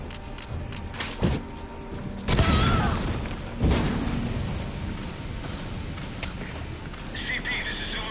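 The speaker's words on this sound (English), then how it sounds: "There was an explosion." Explosion in Metal Gear Solid V on an offshore combat platform, a few deep booming blasts with rumbling tails over a steady rain-like hiss, with some talking.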